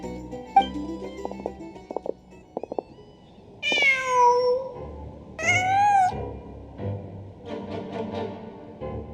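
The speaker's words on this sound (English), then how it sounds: "Huh. Just a cat." A cat meows twice in the Genshin Impact game, with drawn-out rising-and-falling cries standing out over a soft music bed and some clicks before them, then a quieter ambient tone carrying on afterward.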